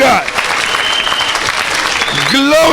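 A church congregation applauds steadily throughout, a dense wash of clapping with a voice rising over it near the end.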